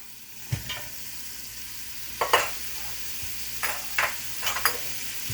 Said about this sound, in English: we're going to dump these onions in, y'all